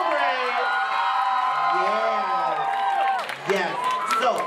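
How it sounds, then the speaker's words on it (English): Audience at a queer variety show cheering and whooping, loud shouts and high calls with some clapping beneath, and a voice heard amid the crowd noise. "So one more big thunderous applause."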